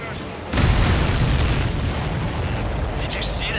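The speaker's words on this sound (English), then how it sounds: "Did you see that explosion? Looks like that's one of them down." An enemy supply ship explodes in the combat flight game Ace Combat 7, a heavy boom striking about half a second in and rolling on as a broad, loud rumble through the rest.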